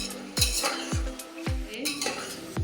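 Chopped onion and peas being sautéed in a pan for a spicy pea usal, with a spoon scraping and knocking against the metal in a few distinct strokes over a light sizzle, close up, with no talking.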